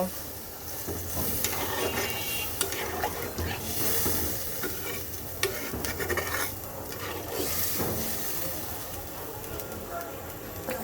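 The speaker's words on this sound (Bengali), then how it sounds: "দেখো আমার কিন্তু মাংসটা টক বক করে ফুটছে" Goat meat curry bubbles and boils in a pot with added water, a steady broadband simmer with light stirring and clinks running for about eleven seconds at moderate level.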